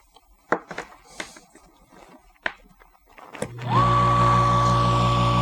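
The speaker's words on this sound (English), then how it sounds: "go ahead and plug the pump in" A magnetic drive brewery pump motor, head removed, switches on after a few faint clicks and handling noises, then hums steadily and loudly as it spins freely.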